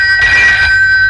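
A telephone rings loudly in a scene from a Kannada action thriller, one short bright electronic ring burst over a low background hum.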